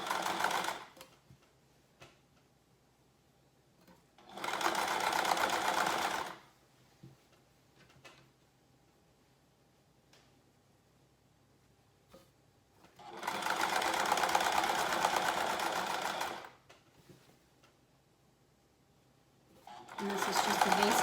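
Sewing machine running a basic straight stitch while making window valances, in three steady bursts of a few seconds each, loud and close, separated by quiet pauses with faint handling noise.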